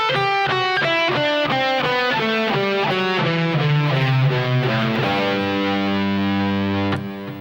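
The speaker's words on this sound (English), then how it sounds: "the scale is basically going to look and sound like this" Distorted electric guitar plays a fast two-handed tapping scale run in A Dorian, rapid even notes climbing then settling on a sustained held note, loud and alone before cutting off.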